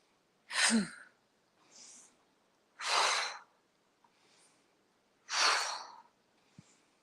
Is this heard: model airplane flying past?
no